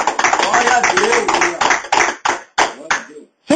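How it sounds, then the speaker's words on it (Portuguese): Church congregation applauding during a Portuguese-language sermon, dense rapid clapping that thins into a few scattered claps and stops, with a voice speaking over it. "Palmas para Jesus"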